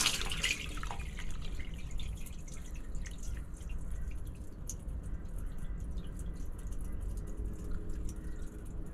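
Water flowing steadily down a blocked drain being cleared, draining from a laundry or kitchen, a continuous close rush and trickle with faint drips and no talk.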